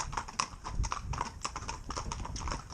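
Hooves of young, green ponies pulling a mixed four-in-hand, a brisk, uneven clip-clop of many feet on a hard surface, fairly close, with harness rattle and low rumble beneath.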